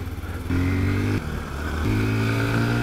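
An Aveta VTM 250M motorcycle engine idles loudly nearby, its steady rumble rising in pitch as the throttle is blipped twice.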